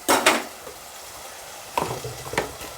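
Masala frying and being stirred in a pan while cooking a banana vegetable curry: two short bursts of sizzling and scraping, then a quiet pause, then two more stirring scrapes, close and moderately loud with no talk.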